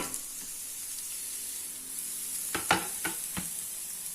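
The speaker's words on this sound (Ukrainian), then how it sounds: "Підсмажуємо цибулю." Onion frying in a pan, a faint, steady low sizzle followed by a few sharp clattering stirs or knocks of a utensil late on, with no speech.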